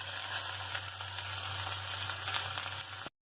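Cabbage sliced lengthwise frying in oil for a fasting-day avalakki (poha) dish, a steady broadband sizzle holding evenly close up for about three seconds before cutting to silence.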